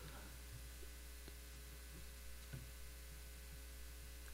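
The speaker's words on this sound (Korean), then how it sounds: "여기에 지금 이렇게 이런 소리는 에어컨 소리입니다." A constant low electrical hum, like an air conditioner running, steady throughout with faint background noise.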